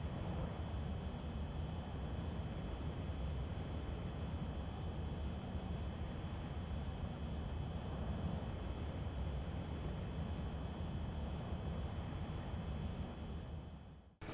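A Dassault Rafale jet in Ace Combat 6 roars steadily through a full right turn, a dense continuous engine and wind rush holding the same level almost to the end, with no talk.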